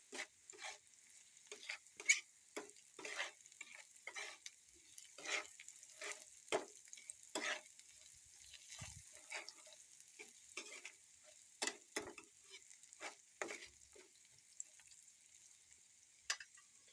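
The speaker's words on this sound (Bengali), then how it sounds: "এরপরে কিন্তু আরেকটু মতো আমরা কড়া করে ভেজে নিব" Noodles frying until crisp in a pan, heard as quiet, scattered crackles and ticking pops with a few stirring clicks over a soft sizzle, spread across the whole stretch.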